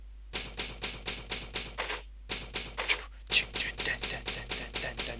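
Typewriter keys clack in rapid bursts for a save sequence in Resident Evil: Code Veronica, about twenty crisp strikes in two runs separated by a short pause, loud and close with no talking.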